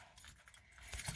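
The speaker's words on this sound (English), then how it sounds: "fighting with my keys." Keys jangling in short bursts, fairly close and moderately loud, with a metallic rattle that builds toward the end.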